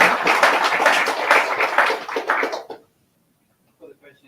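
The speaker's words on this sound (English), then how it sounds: "Round of applause first of all." An audience at a Sydney data engineering meetup claps in a dense, loud burst of applause for about two and a half seconds before it cuts off into silence, with faint talk resuming near the end.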